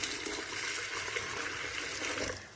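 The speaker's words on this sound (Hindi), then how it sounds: "और पानी ऐड करना है इसमें" Water poured into a pot of cooking masoor lentils seasoned with salt and Kashmiri red chilli, a steady close splashing fill lasting a couple of seconds before easing off, with no talk.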